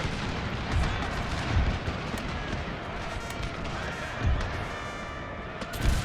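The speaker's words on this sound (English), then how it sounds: "That's going to change as soon as we start to fire pistol in the back." Pistol fire from cavalry in a Total War battle set in the Thirty Years' War, with a dense, continuous rumble of battle noise and scattered muffled shots and booms at irregular moments throughout.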